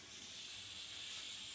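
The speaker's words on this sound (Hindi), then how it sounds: "मेरी खिचड़ी बन रही है कुकर पे, तो उसकी आवाज़ आ रही है।" Pressure cooker steadily hissing as khichdi cooks, a continuous close jet of steam with no break and no voices.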